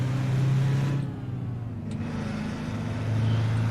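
A cabover truck with a Detroit diesel rumbles in American Truck Simulator, a deep steady engine drone that dips slightly then swells again with a low growl, no voices.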